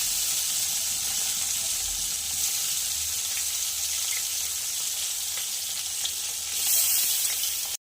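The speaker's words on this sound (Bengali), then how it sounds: "এবার মাছটা আমি ভাজা বসাবো।" Snakehead fish fries in oil in a wok, a dense, even hiss of sizzling that holds steady throughout and swells briefly near the end, close and with no one talking.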